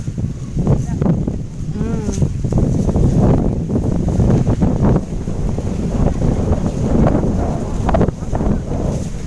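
Strong gusts of wind batter the microphone in a cashew orchard, a loud, continuous rumbling roar that swells and dips without a break for the whole stretch.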